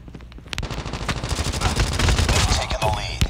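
Rapid automatic gunfire in Call of Duty Mobile, a loud, dense stream of shots with sharp bursts running almost the whole time.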